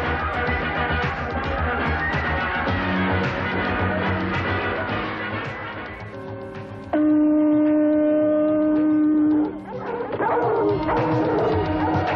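Dogs bark and yip in an old Walt Disney film fragment, the barks mixed in with loud orchestral music and a sustained horn-like tone, fairly close and continuous.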